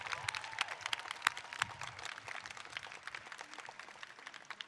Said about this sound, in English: let's give a round of applause to our great talent, Parajita Bastola, for that amazing anthem